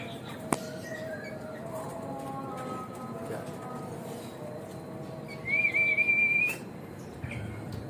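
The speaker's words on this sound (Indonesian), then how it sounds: "Cucak hijau Sumatera." A Sumatran green leafbird (cucak hijau) whistles a few sweet, clear phrases in a bird shop, with a sharper rising trill near the end over steady background chatter and cage noise.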